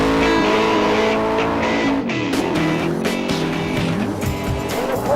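Spyker and Cobra Superformance sports cars, the Cobra with a Roush V8, race at Willow Springs. Engines roar loudly and steadily, shifting pitch up and down through gears, with tire squeal and no talking.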